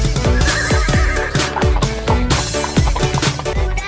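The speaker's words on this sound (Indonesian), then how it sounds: "wadidaw, ada kuda satu teman-teman" A toy horse neighs loudly and close by, a series of rapid, repeated whinnying calls with falling pitch sweeps that fill the whole span.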